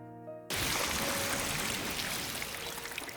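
A massive gush of liquid spews from a character's mouth in a video game, bursting in suddenly after a brief musical tone and pouring on as a loud, continuous splashing torrent like a waterfall.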